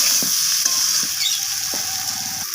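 Fried mourola fish with tomato and potato are stirred in a pan, a bright steady sizzle broken by several soft spatula scrapes, close and unaccompanied by speech.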